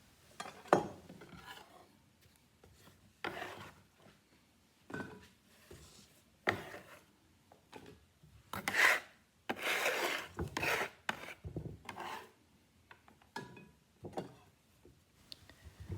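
A vegetable knife rasps and scrapes through the thick skin of a celeriac, in repeated short strokes with pauses between them, close and fairly quiet.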